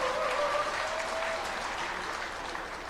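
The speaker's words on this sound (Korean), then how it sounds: "여러분 큰 박수로 다시 한번 환영해 주십시오." Sustained applause from an audience at a security civic groups' rally in a Lotte Hotel ballroom in Sogong-dong, steady dense clapping throughout, fading slightly toward the end, with a faint tonal whistle near the start.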